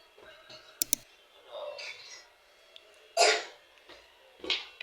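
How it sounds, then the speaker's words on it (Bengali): A child indoors gives a few short, sharp coughs, the loudest burst near the middle, between scattered clicks and quiet stretches. "কাশি আসে?"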